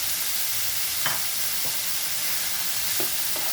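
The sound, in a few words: fried potatoes added to ridge gourd and poppy seeds, stirred, sizzling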